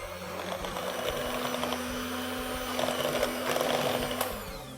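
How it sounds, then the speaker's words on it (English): A steady electric whir from an electric blender mixing cream cheese continuously at close range, with a faint rattling texture and slight shifts in pitch. "I'm using an electric blender to make sure this is nice and smooth."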